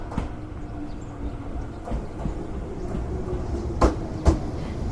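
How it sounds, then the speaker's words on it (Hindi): A train runs along the track toward a station, a steady rumbling roll with a few sharp clanks and rail knocks standing out near the end, carrying on without any voices. "खैर, ट्रेन माधवपुर स्टेशन पर रुकती है"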